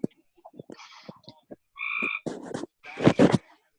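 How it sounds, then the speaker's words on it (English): A loud frog croaks outdoors in a few short, separate bursts, each one close and strong against otherwise quiet surroundings. "there's a loud frog out here"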